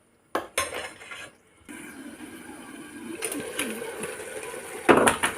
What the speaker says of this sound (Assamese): বিলাহীখিনি আকৌ মছলাখিনি আকৌ এবাৰ মই ভালদৰে লৰাই দিছোঁ ধুনীয়াকৈ